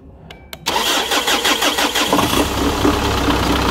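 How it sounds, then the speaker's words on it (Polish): A 20-year-old diesel car engine, started with a Green Cell PowerBoost jump starter, gives a couple of short cranking clicks, then catches and settles into a loud, rough, steady idle close by. "Pamiętaj, świeca żarowa, sprężynka i odpalasz."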